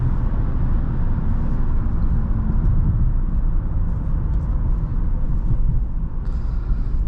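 Low, steady engine drone of a 2016 Honda Accord EX-L V6 under way, heard from inside the cabin with road rumble, continuous and fairly loud.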